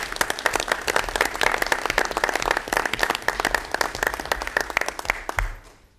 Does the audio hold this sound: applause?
yes